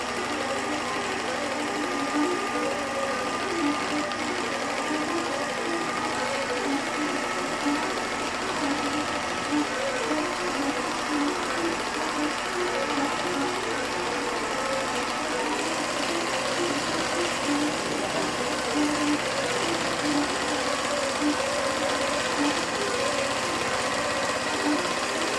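A sewing machine runs steadily during machine quilting, a continuous dense mechanical whir and rattle with some shaking vibration that holds for the whole stretch, close and loud.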